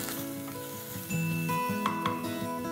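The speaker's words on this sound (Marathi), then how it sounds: "तेल गरम झालेलं आहे। आता आपण यात घालूया आलं लसूण हिरवी मिरचीचा क्रश 1 टेबलस्पून आणि त्यात घालतोय आपण कोथिंबीर।" A crushed paste of ginger, garlic and green chilli with fresh coriander fries in hot oil, giving a steady sizzle; around the middle it swells louder with clinks and scraping from a spoon stirring in the pan.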